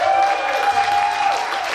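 Applause from an audience at a live band show in Berkeley, California, forms a dense steady wash with a sustained tone running through it, heard briefly and at moderate level.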